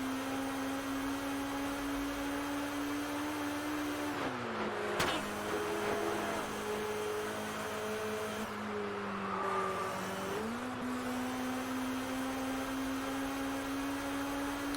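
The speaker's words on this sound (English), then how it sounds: "Driving at the high speed on this game is difficult, not going to lie." Racing car in the video game Test Drive Unlimited, driven at high speed: a steady, loud engine drone holds throughout, dipping briefly in pitch twice as the car shifts or slows, then climbing back, with no talk.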